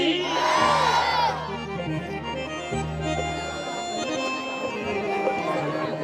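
At a Hindu yagya, a crowd shouts a loud chant together in one strong burst, then the voices trail off into murmuring and scattered calls.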